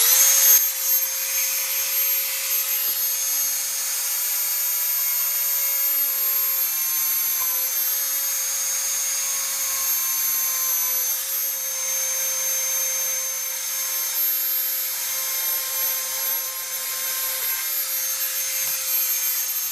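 A Dremel 4200 rotary tool cutting through a thin wooden piece for a papercut-style design whines at a steady high pitch throughout, close and constant, with faint bumps as the bit works the wood and no talking.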